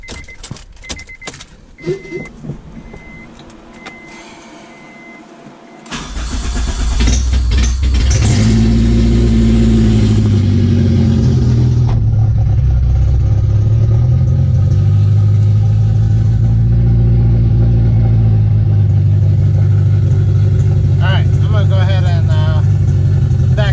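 A Honda K24A2 engine in an Acura Integra with an open header cranks and fires up around six seconds in, then settles into a loud, raw, droning idle with a brief rev; clicks and shuffling come before it.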